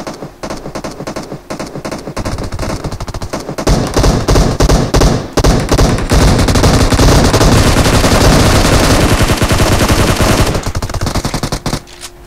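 Heavy gunfire in PUBG Mobile, dense rapid bursts of automatic shots building into a sustained loud barrage that runs nearly continuously before cutting off.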